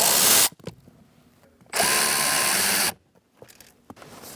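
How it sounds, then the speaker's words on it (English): A power driver with a 7mm socket spins out black screws from a kick panel in a 2012-2020 Chevrolet Sonic, two close, steady whirring runs separated by a pause and small clicks. "Using a 7mm socket, we're going to take out these two black screws."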